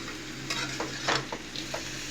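Mangoes stirred in boiling jaggery syrup for a sweet-sour mango pickle, giving a few soft scraping stirs and faint bubbling over a low steady hum, with no talking.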